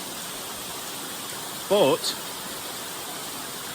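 Hatch Brook waterfall pouring in a steady, broadband rush of falling water, constant and fairly close, with a brief spoken word over it.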